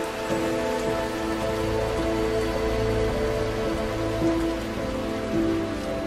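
Steady rain falls over Suncheon Bay, a tidal wetland in Korea, making a continuous dense patter on surfaces, even and moderately loud throughout with no voices.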